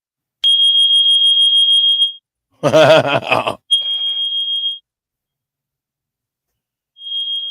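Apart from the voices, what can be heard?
alarm sound played during live broadcast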